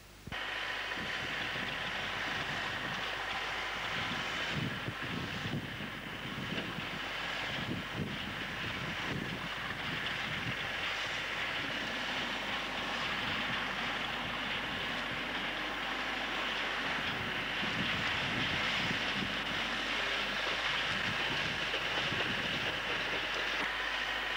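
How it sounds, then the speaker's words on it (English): Two Class 31 diesel locomotives labour round a curve toward Bedford Midland station in 1993, a steady low engine rumble under constant wind and rail noise heard from trackside. "Whilst two Class 31s labour round the curve to the Midland Station"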